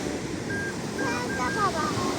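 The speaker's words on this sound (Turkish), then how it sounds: "Dalga geldi anneciğim." Sea waves wash onto a sandy beach with a steady rolling surf and wind buffeting the microphone, while a voice and nearby talk sound over it.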